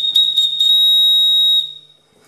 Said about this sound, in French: On va faire un petit essai de sifflet.